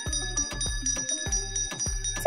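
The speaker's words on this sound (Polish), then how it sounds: "co tu robi dzwonek? Myślę, że to do wzywania służby." A small service bell in a cartoon prison cell is struck about five times in an uneven rhythm, each bright metallic ding ringing briefly close by, with a dull thud beneath each strike.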